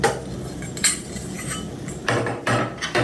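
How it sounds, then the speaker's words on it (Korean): Hex wrench, the largest from the kit, tightening the handlebar on a Vaquform vacuum former during assembly: a few sharp metallic clinks and taps, close and fairly loud, separated by short pauses, with no talking. "육각 렌치 키트 중 가장 큰 육각 렌치를 꺼내서 핸들바를 고정해주게 될 텐데요"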